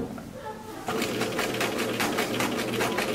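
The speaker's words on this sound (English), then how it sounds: "we're sewing right at the edge of the cloth" A sewing machine stitches a fly front zipper onto cloth, starting after a quiet moment and then running in a fast, steady rhythmic chatter close by.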